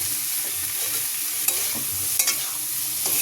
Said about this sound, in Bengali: কষিয়ে নেব খুব ভালো করে।